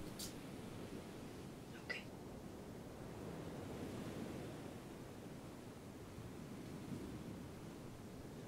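Ocean waves wash steadily at a beach cabana, a soft, continuous rushing surf with gentle swells, faint and even throughout with a couple of light clicks near the start.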